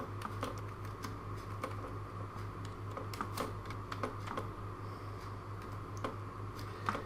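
Login details for an income-tax portal are typed on a computer keyboard, producing rapid, uneven clicking keystrokes close to the microphone over a low steady hum, with no one talking.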